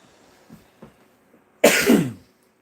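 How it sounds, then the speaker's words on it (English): A person with asthma coughs, short of air: a few faint breaths or small throat sounds, then one loud, close burst of coughing lasting under a second. "I have to do my coughs because I run out of air and my asthma wants to kick in like right now"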